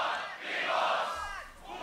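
A crowd at a GBB 2023 beatbox solo semi-final shouts together in a loud, swelling roar that rises, dips and surges again.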